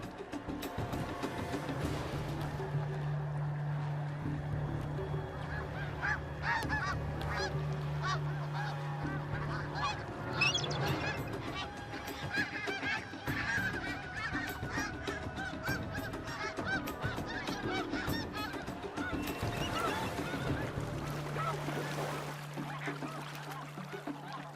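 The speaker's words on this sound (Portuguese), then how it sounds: "O ganso das neves tem manobras de fuga espetaculares." Snow geese honk repeatedly in a busy, continuous chorus of overlapping calls, fairly loud throughout, while a low droning hum runs underneath in parts.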